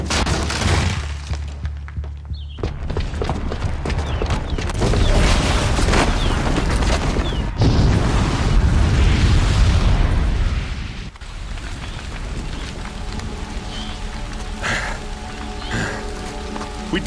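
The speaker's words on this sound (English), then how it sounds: "the booby trap on the bomb downstairs is gonna get set off" A booby-trapped bomb goes off in the video game Horizon Zero Dawn: a loud, sustained roar of blast and crumbling debris that fades after about eleven seconds into a quieter rumbling aftermath.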